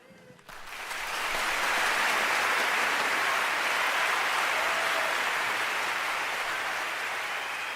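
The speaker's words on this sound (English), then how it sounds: "And did you hear that applause?" Audience applause rises quickly and holds as a dense, sustained wash of clapping, fairly loud and steady throughout without voices on top.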